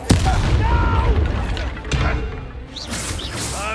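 A Bombarda explosion spell booms at the start in Hogwarts Legacy, a loud blast with a sharp crack, followed by further game combat effects and magical whooshes, with voices speaking over the action.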